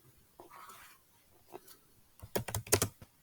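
Computer keyboard typing as JavaScript code is entered, a few scattered keystrokes at first, then a quick burst of close, crisp clicks toward the end.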